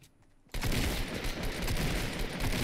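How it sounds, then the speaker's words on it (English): Burst of rapid rifle gunfire in a video game, starting abruptly after a quiet moment and continuing as a dense, loud fusillade of overlapping shots. "And somehow they already got rifles. And they're shooting at me."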